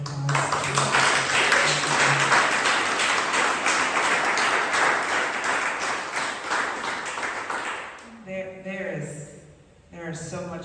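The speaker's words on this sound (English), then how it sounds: "Let's give a round of applause." A live audience at a talk on art and street life gives a round of applause: dense, sustained clapping that fills the first eight seconds, then thins out as a voice starts speaking.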